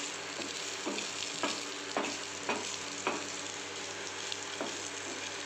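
Spicy potato shira stirred in a pan, a quiet steady fry with repeated spatula scrapes at a slow, even rhythm, close by.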